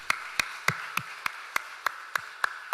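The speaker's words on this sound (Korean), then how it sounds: "우리 70세 이상 되신 교우분들 건강을 위해 우리 박수로 다 함께 격려하도록" A church congregation claps at a slow, steady pace during a Sunday service in honour of members over seventy, with about ten sharp, evenly spaced claps that sound like one or a few people rather than a full crowd.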